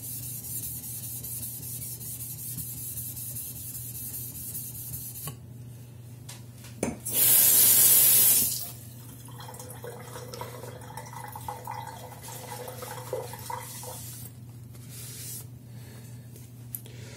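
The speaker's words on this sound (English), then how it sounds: "This is with a slurry from the Atoma plate." A knife is rubbed across a whetstone loaded with slurry from an Atoma plate, making soft, wet, gritty scraping strokes, broken by a brief loud spray or hiss burst midway and a low steady hum throughout.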